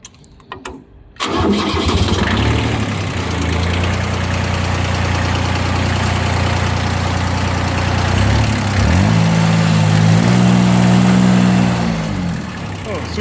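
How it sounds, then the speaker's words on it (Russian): A Kubota ZB1402 tractor's diesel engine cranks briefly and catches, then settles into a loud, steady knocking idle with a slight rise in revs near the end. "Давайте заведем двигатель."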